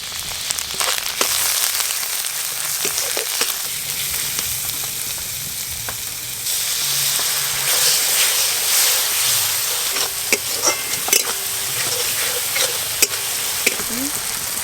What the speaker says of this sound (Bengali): মশলা খুব ভালো করে কষানো হয়ে গেছে।